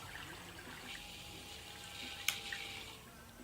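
Water drains from a full PC watercooling loop as a steady, faint hiss and trickle, with one brief sharp splash or click partway through, no voices.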